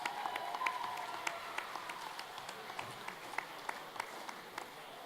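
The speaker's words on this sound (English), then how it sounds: "Let's give them a round of applause" Scattered applause from a powwow crowd outdoors for two live musicians, light and fairly distant with sparse individual claps over steady ambient noise.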